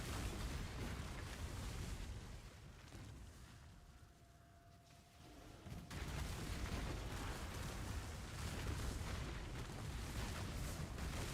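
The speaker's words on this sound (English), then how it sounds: "Something tried to detonate dead on me and I about lost my life in a not so heroic way" Loud, dense rumbling explosion and burst effects from the Path of Exile video game, with a Detonate Dead blast among them; heavy and continuous, easing into a quieter lull near the middle before booming back at full strength.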